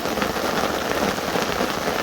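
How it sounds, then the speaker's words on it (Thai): Heavy rain pours steadily over a reservoir at midday, a dense, continuous hiss of drops close by with no wind gusts, loud and unbroken throughout. "ฝนตก ฝนกำลังตกเลย แต่ดีที่ไม่มีลมพายุนะ ตกเฉยๆนี่แหละ"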